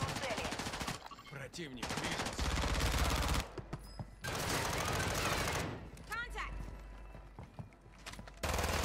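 Rapid automatic gunfire in an online shooter video game, long loud bursts with brief gaps, under tense shouted voice chat between players.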